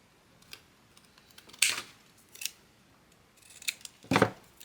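Scissors snipping gray paper for a tea bag bookmark, five or six short crisp cuts spaced unevenly, close and fairly quiet against a near-silent room.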